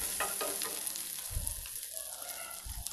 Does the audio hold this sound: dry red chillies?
yes